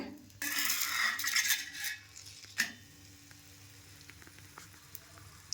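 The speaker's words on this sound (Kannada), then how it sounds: "ಇವಾಗ ಹಂಚ್ ಕಾದಿದೆ ಹಂಚಲ್ಲಿ ಹಾಕೋಣ" A sesame holige flatbread drops onto a hot griddle and a loud burst of sizzling follows, then a sharp clatter. After that a quieter, steady hiss of cooking continues.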